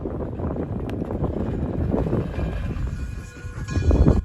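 Steam locomotive Frisco 1630 rumbles past at track speed on the Illinois Railway Museum main line with heavy low clatter and roar, plus wind buffeting on the microphone, loudest toward the end.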